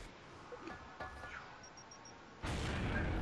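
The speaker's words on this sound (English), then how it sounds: "I'm gonna make sure that when I throw the nade, it'll hit right on them" Grenade explosion in the video game Gears of War: a sudden loud blast near the end that turns into a sustained rumble, after quieter game ambience with small clicks.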